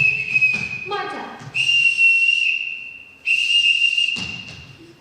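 A whistle blown to summon children in a stage musical, sounding as long sustained shrill blasts with short trills between, loud and close, with a little background noise underneath.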